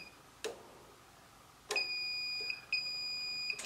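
A multimeter's continuity beeper sounds while its leads touch the ends of a furnace hot surface igniter: sharp clicks as the probes make contact, then a steady high electronic tone that breaks off once and resumes, close and clear.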